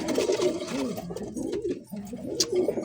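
Pigeons coo in a loft where their eggs and young are kept, a loud near run of soft throaty rolling coos continuing almost without pause, with faint chirps behind.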